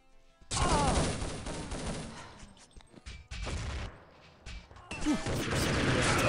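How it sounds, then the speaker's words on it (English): Bursts of gunfire from a tactical video game match in a competitive national team tournament, several loud sharp cracks and blasts in separate clusters across the clip with brief quieter gaps, no talking. "we'll take him out with a double headshot"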